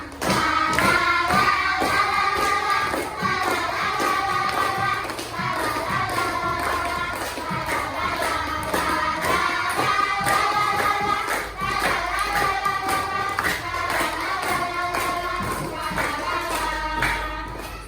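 In a fourth-grade classroom, children sing a cheerful song and clap their hands on the beat. The sharp, rhythmic claps repeat steadily under the voices throughout.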